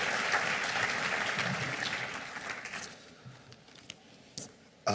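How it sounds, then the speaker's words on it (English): Audience applause at a charity luncheon fills the room, loud and dense at first, then thinning and fading after about three seconds into scattered claps and a few sharp isolated hits near the end. "Thank you for your kind applause"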